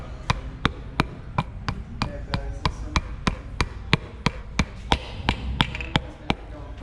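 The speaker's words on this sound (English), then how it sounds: "You're gonna hear a firm click click when the rings go in." Piston rings click into an Audi S3 engine block, sharp, evenly spaced clicks about three times per second, a steady series of firm metallic taps close by with no talking.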